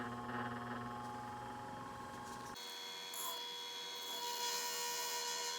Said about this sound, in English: we're going to start it up and start the polishing of the Fire Obsidian